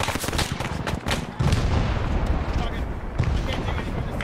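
Gunfire rattles through a Vietnam-era combat game: dense, rapid bursts of shots and heavy booms overlap continuously and loudly across the whole stretch.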